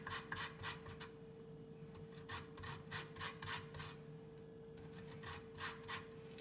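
Repeated rasping strokes of small lemons rubbed across a grater to remove the yellow zest, coming in quick bursts of several scrapes with short pauses between, close and fairly clear over a steady background hum.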